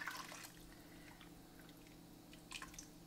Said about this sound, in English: Top it off with some beautiful broth.